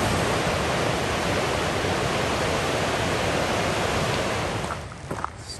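Rushing water at the confluence of New York Creek and Needle Creek in Colorado's San Juan Mountains, a steady broadband roar of tumbling streams, loud and continuous, easing slightly near the end.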